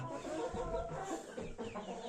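Breeding hens cluck and murmur together in a soft, continuous flock chatter, close and fairly quiet, with no voices.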